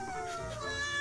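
A cat meows once in a drawn-out, wavering cry with a falling then rising pitch, close and fairly clear against a little background noise.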